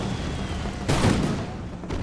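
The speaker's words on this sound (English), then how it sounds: "Enemy's definitely got artillery, that's for sure." Enemy artillery and musket gunfire on a battlefield in the Imperial Splendour mod for a strategy video game, a muffled boom-laden burst rising over a steady rumbling din, with a second blast at the end.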